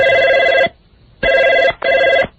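A telephone rings in three loud bursts, one long ring, a pause, then two shorter rings in quick succession, clear and alone with no voices.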